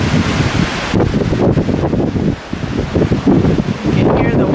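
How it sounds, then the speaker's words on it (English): Strong wind gusts blow through trees in the aftermath of Hurricane Irma, a loud, rushing roar with microphone buffeting that rises and falls in uneven surges throughout. "You can hear the wind."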